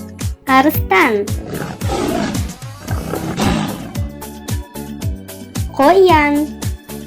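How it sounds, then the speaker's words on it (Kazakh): A lion gives two loud, close roars over a steady thumping background beat, with rough growling sounds between them. "Арыстан."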